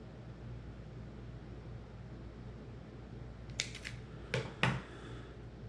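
Two or three quick, crisp snips as the tag end of monofilament fishing line is trimmed on a surf fishing rig with beads and floats, close and fairly quiet, near the end of the clip over a low steady background hum.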